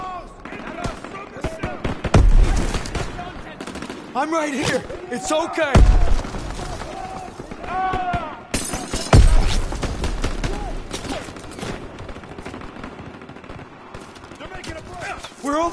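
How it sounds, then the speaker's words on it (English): Gunfire and machine gun bursts in a WWII battle, several heavy booming shots and rattling volleys scattered through, with voices talking close by amid the noise. "Gunfire this way."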